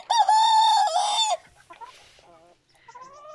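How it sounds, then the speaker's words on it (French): Pekin bantam chickens in a small farm pen give a loud, drawn-out crowing call up close, then quieter scattered clucks and short calls follow. "on va passer dans le petit enclos des Pékins"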